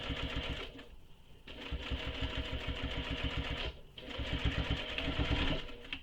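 Sewing machine running steadily while stitching a tote bag, a dense rapid needle rhythm with two brief pauses, close and continuous.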